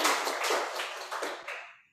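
A short burst of applause from a small group at the end of an experimental weaving talk, dense overlapping claps that swell briefly and then trail off into quiet.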